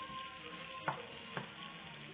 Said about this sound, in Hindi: इस खाने में प्याजों को बहुत हल्का सा फ्राई करेंगे